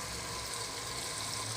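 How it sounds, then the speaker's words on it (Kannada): Moong dal frying in oil with tomato in a pan for avalakki bisibelebath, giving a steady, even sizzle that holds at a constant low level throughout with no pauses. "ಹೆಸರುಬೇಳೆ ಹಸಿ ವಾಸನೆ ಹೋಗೋವರೆಗೂ ಫ್ರೈ ಮಾಡ್ಕೊಳ್ಳಿ"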